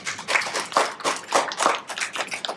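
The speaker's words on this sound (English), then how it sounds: "I think that deserves an applause." A lecture audience at a talk on ending homelessness gives a short round of applause, a few loud, rhythmic bursts of clapping close by with no talking.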